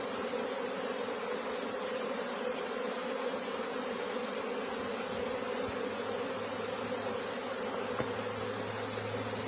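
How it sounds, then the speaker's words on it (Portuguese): A very large honeybee swarm arriving at a new hive, a dense, continuous buzzing drone that stays loud and steady throughout without pause. "Esse enxame aqui é extremamente grande."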